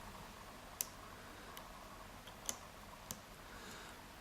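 Tiny metallic clicks come from the pins of a lock as it is picked, four or five sharp, faint ticks spaced irregularly over a quiet background hiss.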